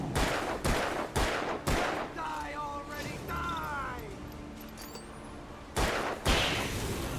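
Gunfire in the Alan Wake video game: a handful of sharp, loud shots spaced irregularly, with a tonal game sound and faint background ambience between them.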